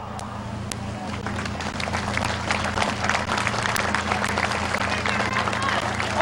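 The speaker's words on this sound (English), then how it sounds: "would all veterans, active duty military, police, fire, EMS, and healthcare workers stand for a round of applause." Crowd at Midvale Speedway applauding veterans, military, police, fire, EMS and healthcare workers; steady broad clapping throughout, with a low engine-like hum and crowd murmur underneath.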